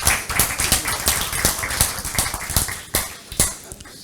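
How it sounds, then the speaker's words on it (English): Audience applause for a speaker at a conference: scattered, uneven hand claps from a modest crowd, fairly close and sharp. They continue for about four seconds without any talking. "a round of applause for Bart"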